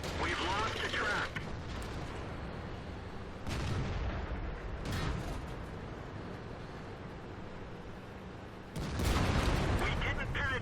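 A World of Tanks cannon fires in several loud, heavy booms separated by quieter rumbling battle noise and mechanical clatter, with talk underneath.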